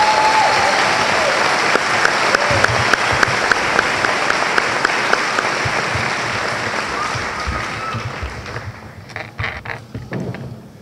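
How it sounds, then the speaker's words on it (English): A 12th grade graduation crowd applauds award winners with a broad, sustained roar of clapping and occasional sharper claps, tapering off near the end as a voice returns over scattered hands. "Big round of applause for these award winners."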